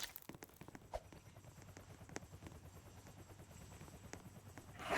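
Steady low rotor-like thrum of a helicopter in the Roblox game, droning continuously at moderate distance under scattered clicks and thumps of gameplay, with no talk.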